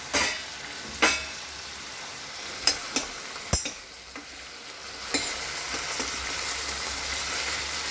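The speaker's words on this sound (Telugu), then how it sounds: "ఒకసారి మళ్ళీ తీసి కలిపెట్టుకుందాము" Vegetables frying in a pot for a lentil broth, a steady soft sizzle broken by a few sharp scrapes and clacks of a stirring spoon, near and fairly quiet, with no voices.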